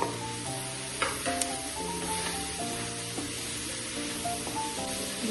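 Chicken masala with garam masala powder sizzling while being sautéed in a pan, a steady close frying hiss with occasional stirring scrapes, under faint background tones.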